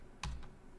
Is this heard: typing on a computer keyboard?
yes